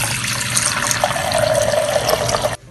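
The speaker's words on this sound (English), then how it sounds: "So I'm just gonna fill this halfway with water." Water runs from a tap into a 1 liter jug, a steady close rushing splash whose pitch climbs gently as the jug fills, then cuts off abruptly near the end.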